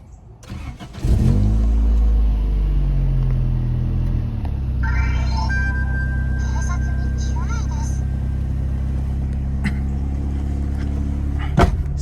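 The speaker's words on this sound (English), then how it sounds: "here I'm gonna fire up the car" A Honda Accord CD5 engine cranks and catches about a second in, then settles into a loud, steady low idle rumble close by, with a faint electronic voice sounding over it.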